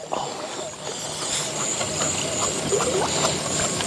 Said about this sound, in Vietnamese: có một cái con ếch kìa